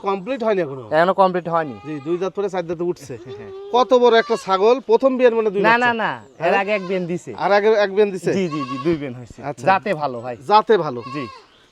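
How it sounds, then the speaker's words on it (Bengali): A large goat, likely a Haryana breed, bleats repeatedly in long wavering calls at close range on a farm, loud and nearly continuous, with people talking in between. "ছাগলটা দেখেন বড় ছাগল"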